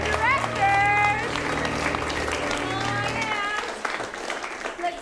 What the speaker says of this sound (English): Let's have a round of applause for both your directors.